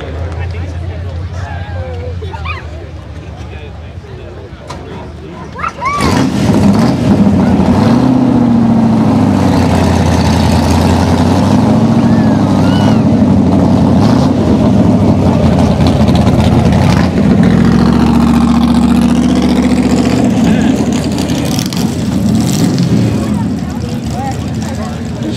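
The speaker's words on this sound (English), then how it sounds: "Pontiac Tempest, the fastest Tempest in the world" Pontiac Tempest engine at a car show, idling low and then kicking up loudly around six seconds into a sustained, steady rumble with slight revving swells, a voice speaking over it.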